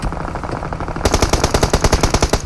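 Automatic gunfire in the video game PUBG Mobile sounds loud and close, first a quicker muffled burst, then a rapid rhythmic volley of sharp shots with no voices.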